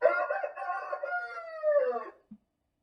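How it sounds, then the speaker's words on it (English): A rooster gives a single loud, close cock-a-doodle-doo lasting about two seconds, ending in a short falling note and a tiny click, with no other sounds or talk. "Ooh, the rooster."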